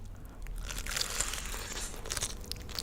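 Crisp, crackly crunching of food being bitten, close to the microphone in an ASMR eating recording, lasting a few seconds with no voices.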